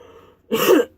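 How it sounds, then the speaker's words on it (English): A single short, rough cough bursts out close by after a moment of near silence. "My coughing gets always really, really bad when I'm doing videos."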